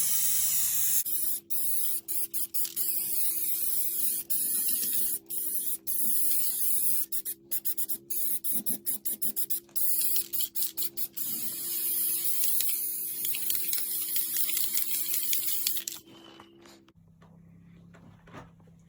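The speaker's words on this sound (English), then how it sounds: "Spraying it has pretty good coverage." An aerosol can hisses in a long continuous spray of paint onto a metal wood stove cook top, broken by brief pauses and sharp clicks of the nozzle, close by, then stops near the end.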